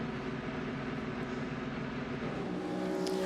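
A Toyota race car pulls away at the 6 Hours of Imola endurance race, its engine a steady, moderately distant drone that builds slightly toward the end.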